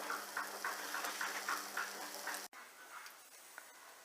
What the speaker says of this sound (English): there go the herbs into the frying onions